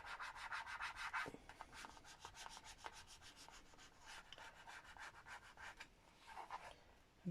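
Repeated rhythmic rubbing as decorative wall stickers are burnished down, quick scraping strokes at close range in steady bursts with a short pause midway, no talking.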